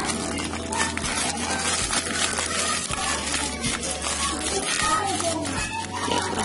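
Half a tablespoon of urea fertilizer being stirred into about 1.5 liters of water, giving a steady scraping, swirling stir that runs the whole time over a constant low hum and background noise.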